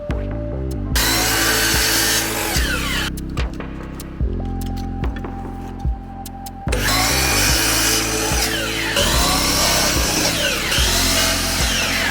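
A Festool power sander works on wood for a log-style birdhouse built from 3/4 dowel, whirring loudly and steadily for the whole stretch, with brief dips as it shifts or pauses.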